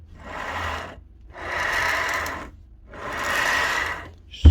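An Alfra electric mixing drill whirs in three separate bursts with short pauses between, each run sounding rough and uneven.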